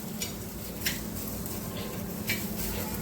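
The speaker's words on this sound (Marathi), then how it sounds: "बारीक गॅस करून तेल टाकून भाजायचं" A low, continuous sizzle of food roasting in oil in a pan over a low gas flame, with a few faint scrapes and clicks from stirring.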